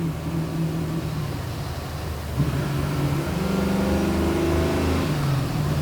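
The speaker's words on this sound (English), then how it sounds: "we'll run it through the gears a little bit up here as we turn the corner. Show you how much power this thing has" A 1969 Chevrolet Camaro SS engine roars from inside the car as it accelerates through the gears, a loud continuous rumble with rising pitch, a brief dip at a shift, then climbing again.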